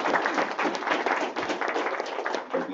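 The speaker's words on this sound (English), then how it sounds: "So round of applause." An audience at a pitch competition gives a round of applause, a dense, continuous spatter of hand claps that stays fairly close and loud for the whole stretch.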